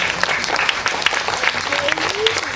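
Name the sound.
audience applause at temple festival meeting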